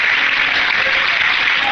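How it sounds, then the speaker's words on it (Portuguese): A church congregation applauding strongly during a Sunday morning service, a loud, dense, continuous wash of many hands clapping close up with no break. "Quantos podem aplaudir ao Senhor bem forte?"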